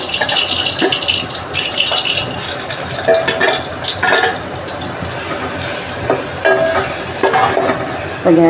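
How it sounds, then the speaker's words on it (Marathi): Garlic sizzling in hot ghee in a pan, a loud, close crackling fry broken by repeated scraping stir strokes and clinks. "आपलं तूप चांगलं तापते आता आपण त्याच्यात लसूण घालून घेऊ"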